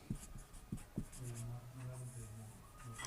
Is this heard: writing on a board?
yes